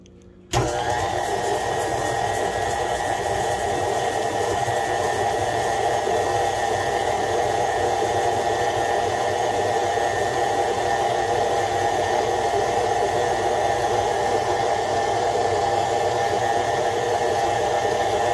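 A KitchenAid stand mixer runs with its flat paddle attachment, a steady loud motor whir with a constant hum that begins abruptly and continues unbroken without speech.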